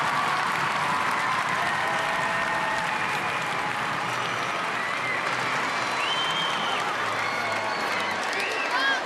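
French crowd at the Paris gymnastics World Cup applauding a rings routine, sustained loud clapping with scattered cheers, a commentator speaking over it.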